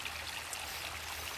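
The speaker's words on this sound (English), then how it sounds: "the ongoing beauty and enjoyment of a waterfall" A garden waterfall spilling down a sloped yard, giving a steady, close rush of running water with a constant splashing hiss and no change in level or voice over it.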